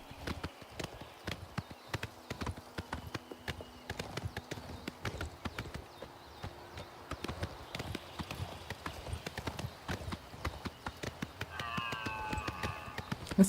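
Horse hooves clip-clop in a steady, brisk rhythm while riding in the video game Oblivion Remastered. The hoofbeats are close and continuous, with a brief tonal flourish near the end.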